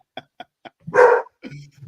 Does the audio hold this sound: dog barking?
yes